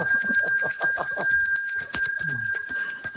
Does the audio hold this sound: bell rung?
yes